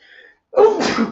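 A single sharp sneeze bursts out close by after a brief, faint intake of breath.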